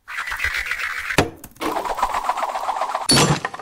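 Video game goal effects resembling a bottle thrown into a bin: two sharp clinking crashes, one early and one near the end, between steady buzzing in-game tones.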